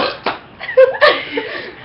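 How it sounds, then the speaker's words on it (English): A single short, close, voiced burp with a rough gurgling texture, followed by brief chuckling, in an indoor setting. "This is the first burp of the video."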